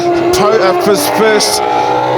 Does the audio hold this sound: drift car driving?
yes